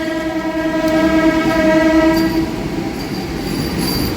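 A loud, sustained DEMU train horn blares steadily for a couple of seconds over the rumble of the moving train, then fades as the engine noise continues.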